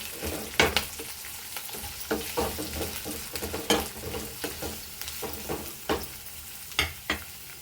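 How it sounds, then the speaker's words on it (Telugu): Curry leaves and green chillies fry in hot oil for a potato curry, a steady sizzle broken by repeated sharp clacks of a spoon stirring the pan, close and fairly loud. "అండ్ కరివేపాకు వేగుతున్నాయి"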